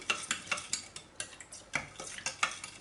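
A spoon stirring sugar into half a litre of cold milk, clinking repeatedly against the container in a steady rhythm of sharp taps, close and fairly quiet, with no talking.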